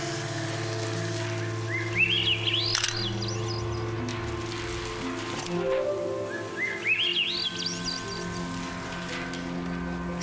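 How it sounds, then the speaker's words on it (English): Birds chirp in the video game SEASON: A letter to the future, two short bursts of bright tweeting rising over a steady bed of ambient game music and background hum. "Sound of the birds."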